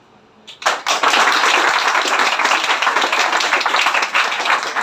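A hall full of people at a ceremony honouring student toppers breaks into dense, sustained clapping that starts abruptly after a brief quiet moment and stays loud and steady to the end, with no voices over it.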